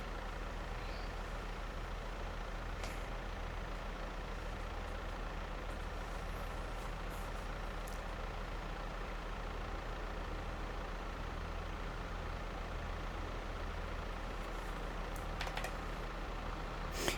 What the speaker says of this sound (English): just need to wait until the tractor comes this way.